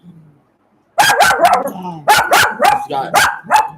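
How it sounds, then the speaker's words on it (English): An 18-year-old dog barks in a close, loud run of about six sharp barks with whiny, yipping edges, following a brief faint murmur and a short pause. "This dog is 18 years old."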